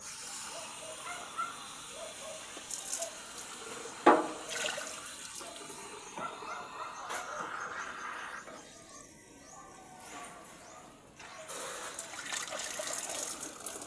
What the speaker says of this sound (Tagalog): maghuhugas tayo